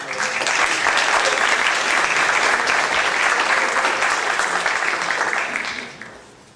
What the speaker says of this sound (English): let's give a warm applause to